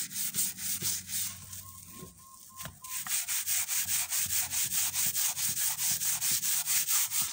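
Steady back-and-forth scrubbing of a wooden cutting board, a rhythmic rasping stroke repeated close up, with a brief pause midway before the even scrubbing resumes.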